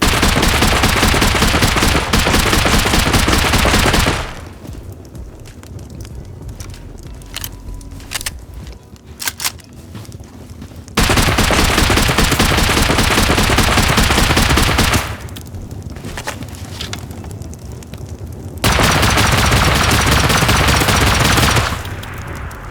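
Loud sustained gunfire during a base raid in Rust comes in three long bursts of rapid automatic shots. Quieter gaps between the bursts carry scattered clicks and faint shuffling.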